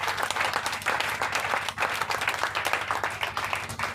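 A church congregation claps and applauds together in a dense, continuous burst of clapping that fills the room, steady and fairly loud throughout.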